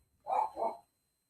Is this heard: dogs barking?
yes